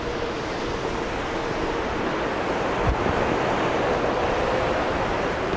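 Steady rushing water from cascades running everywhere along a woodland path after heavy rain, a continuous broadband roar heard up close with some wind on the microphone.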